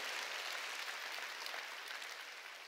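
A church congregation claps in praise during a Sunday worship service. The clapping is steady and dense but faint and distant, and no voices are heard.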